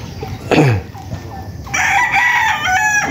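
Roosters crowing at a chicken farm, one rising crow early then a long loud crow near the end, with scattered clucking between, close and clear.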